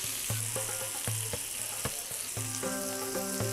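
Chopped onion frying in oil and butter in a pan, a steady hiss of sizzling with occasional stirring clinks and taps, close and continuous, with no voices.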